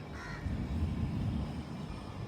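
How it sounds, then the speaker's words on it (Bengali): A single crow caws briefly at the start over a steady low rumble, like distant traffic or an aircraft, beside an ashram in Naktala, Kolkata, under a heavy pre-rain sky. "দেখো কাকগুলো উড়ে উড়ে বেড়াচ্ছে"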